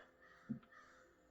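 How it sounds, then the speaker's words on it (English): A single short crow caw sounds faintly from outside, brief and distant against a quiet room. "And I'm hearing a crow outside."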